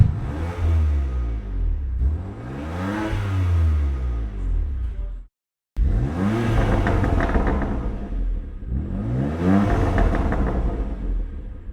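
A BMW M2 Competition with a 70mm twin exhaust and Scorpion carbon Ascari tips revs hard in close, loud repeated bursts that rise and fall, with a brief silent gap midway.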